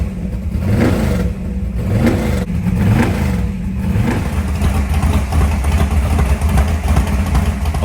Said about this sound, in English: Once we had the engine fired up